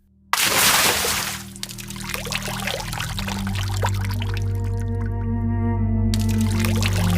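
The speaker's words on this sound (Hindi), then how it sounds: "फिर उसने भगवान को याद करके जाल पानी में फेंका" A fishing net thrown into water lands with a sudden splash, followed by a long bubbling, trickling wash. A low tonal hum runs beneath it, and no voices are heard.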